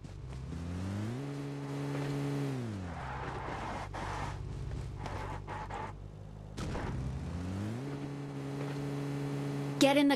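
Vehicle engine in the battle royale game PUBG Lite, a steady droning hum that rises in pitch as it accelerates, drops, then climbs again, with a sharp burst near the end.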